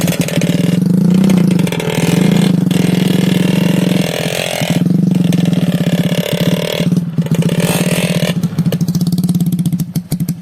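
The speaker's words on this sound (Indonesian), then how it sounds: "Sudah dengar raungan motor-motor murid saya mau naik tanjakan Semantung nih." Several motorcycle engines roar and rev loudly and continuously, pitch rising and falling as they strain up a slippery red-dirt hill on the way to Semantung waterfall in the rainy season, close by.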